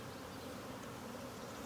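Honey bees hum in a continuous, even drone during a beehive inspection, a close swarm buzz with no one speaking.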